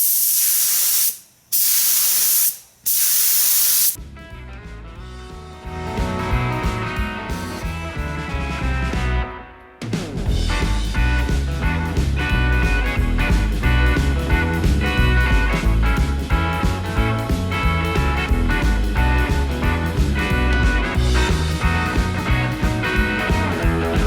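A paint spray gun spraying a car fender at home: a few sharp bursts of loud hiss, then a long, loud, continuous droning spray.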